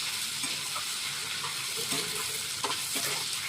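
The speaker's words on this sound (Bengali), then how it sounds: "রসুনটা একটু ভাজা ভাজা হবে, রসুনের একটা কাঁচা গন্ধ থাকে, এটা একটু ভালো করে ভেজে নিতে হবে।" Garlic paste sizzles softly in a pan, a low steady frying hiss with faint scraping and stirring clicks scattered through, heard close and without talk.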